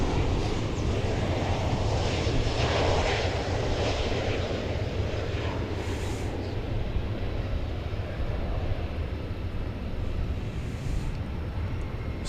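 A UPS MD-11 cargo jet at DFW Airport rolls down runway 17 right on takeoff, its engines a loud, broad roaring rush heard from a distance that holds steady and slowly fades slightly.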